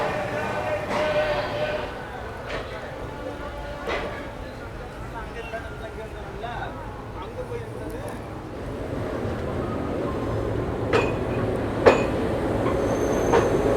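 A passenger train pulls out of Chennai Egmore station, with a continuous rumble of wheels and carriages, occasional squeals and clanks, and a voice talking over it throughout.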